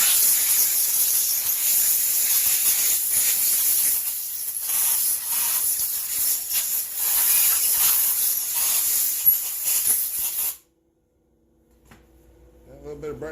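Brake cleaner sprays with a steady loud hiss for about ten seconds while the oil cup of a McCulloch Pro Mac 850 chainsaw is cleaned of oil and silicone, then cuts off abruptly into near silence and faint handling sounds.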